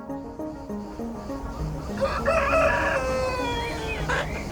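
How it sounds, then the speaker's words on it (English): Roosters on Avşa island crow in long, rising calls, several overlapping, over a steady background of clucking chickens, close and fairly loud. "There's a lot of chickens in Avşa, so there's a constant sound of the roosters."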